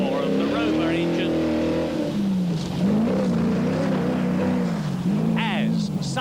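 A Rover-engined rally car at a 1983 rallysprint gives a throaty roar that rises and falls through the gears, loud and continuous, with a commentator talking over it.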